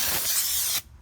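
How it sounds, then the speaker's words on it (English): Brake cleaner spraying onto a new front brake rotor of a 2015 Ford Explorer. It is one steady, loud hiss close by that cuts off sharply after under a second. "a little bit of that brake cleaner on it and wipe it down"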